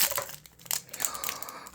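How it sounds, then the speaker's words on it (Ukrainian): A small plastic packet holding a miniature LOL toy is torn and crinkled open, giving a brief burst of close, irregular rustling and crackling. "Відкриваємо ще один пакетик."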